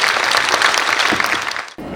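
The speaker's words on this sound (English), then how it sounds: "Let's give a round of applause for" Audience applause at the Shillong International Film Festival, a dense, steady wash of clapping from a large crowd that drops off briefly near the end before resuming.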